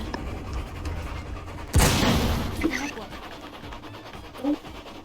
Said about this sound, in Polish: O nie, wybuchnie!